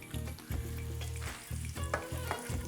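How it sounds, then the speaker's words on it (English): Pepperoni sizzling in oil in a frying pan, a steady crackling fry with repeated scraping stir strokes in a rhythmic pattern, close and without talk. "now I hear a sizzle. We're gonna continue adding our pepperoni to the pan."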